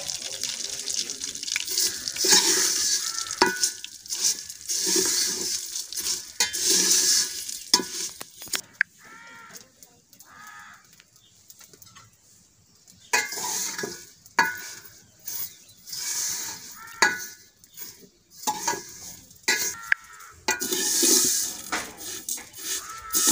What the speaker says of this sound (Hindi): तो अभी जल्दी सेवैयाँ भून जाएंगी